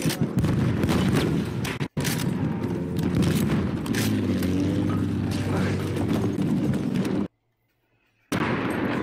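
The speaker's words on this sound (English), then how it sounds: "machine gun" Battlefield 1 battle noise with machine-gun fire: dense rattling bursts and heavy booms fill the scene, a voice speaks under them, and everything cuts to sudden near-silence before the fighting resumes.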